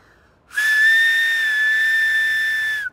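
A single loud, sustained whistle holding one high steady pitch for about two seconds, close by, with no talking.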